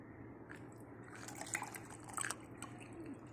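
Water drains through a funnel into a glass after separating grams from it, heard as faint trickling and scattered small drips close by, no voices.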